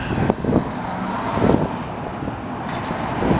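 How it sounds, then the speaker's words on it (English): A truck rumbles past close by, a low engine drone with brief whooshing surges, moderately loud and continuous. "The way a truck is supposed to sound."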